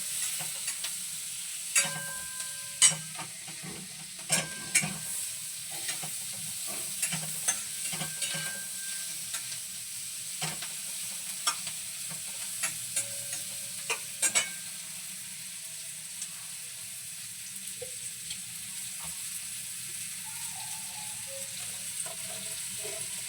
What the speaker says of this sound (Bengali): অল্প একটু পেঁয়াজ আমি মাখনের মধ্যে জাস্ট একটু নাড়াচাড়া করে নেব।